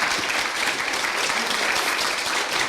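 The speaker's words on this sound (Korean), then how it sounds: "박수로 주십시오." Steady audience applause at a Korean traditional music (gukak) concert, welcoming the director of the Korea National University of Arts traditional arts school, a gayageum teacher; dense, continuous clapping from a crowd with no talk.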